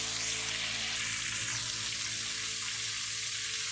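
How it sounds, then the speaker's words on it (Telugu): Goat blood nalla (mutton blood fry) frying in a pan, a steady broadband sizzle with a low hum underneath, continuous and even from start to finish, with no talk. "స్మూత్గా ఫ్రై చేసుకోవాలి"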